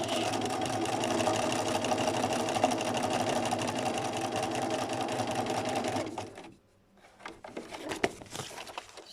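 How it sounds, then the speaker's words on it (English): A Bernina B330 sewing machine runs a straight stitch with a steady, fast mechanical whir for about six seconds, then stops, leaving faint clicks and handling noises. "So starting off a straight stitch."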